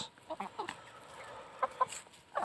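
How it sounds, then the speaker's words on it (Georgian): Ten-month-old hybrid village chickens give a few soft, scattered clucks at moderate distance, with brief quieter gaps between the calls. "10 თვის სოფლის ჰიბრიდი წიწილები"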